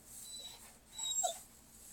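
A dog whimpering indoors, faint high-pitched whines that swell briefly near the middle before fading back to a soft background.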